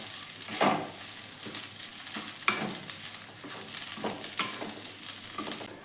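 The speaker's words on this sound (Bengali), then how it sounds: "এগুলোকে ভালো করে একবার মেশাবো।" Cooked chicken keema being stirred and mixed with spices in a pan, giving soft sizzling under repeated scraping strokes of a spoon, close up and without any voices.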